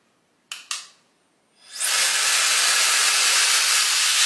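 A Bio Ionic Smart-X hair dryer switches on after two brief clicks, its airflow rising quickly into a steady, close, full hiss.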